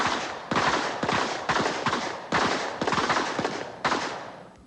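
Pistol shots fired in rapid strings at the 1987 Bianchi Cup NRA action pistol match, a practical event on an outdoor range: sharp, loud cracks in quick bursts of several shots with brief pauses between strings, no talking.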